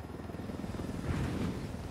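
A video-game helicopter gives off a faint, continuous whirring drone of rotor and engine noise, with no talk.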